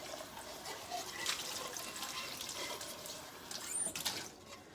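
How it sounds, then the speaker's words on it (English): Hot tap water runs over a tumbler being rinsed at a sink, a steady soft splashing flow with brief louder surges of water against the cup, fairly close and with no talk. "I'm gonna go ahead and rinse it off with hot water."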